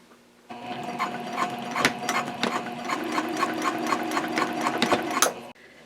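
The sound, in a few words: sewing machine sewing connector to strap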